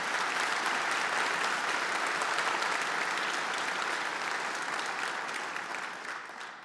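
A graduation ceremony audience at Tækniskólinn gives sustained applause, a thick, even roar of many hands at a moderate distance that gradually tapers off near the end.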